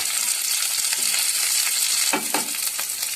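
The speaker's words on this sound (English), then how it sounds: "we'll just saute them till they turn a little golden brown" Mixed vegetables sauté in a hot pan, a steady, dense sizzle and crackle with a few scrapes of stirring near the end, close and continuous with no voices.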